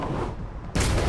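A gunshot at skeet targets in Marvel's Spider-Man Remastered cracks out sharply partway through, following a quieter stretch.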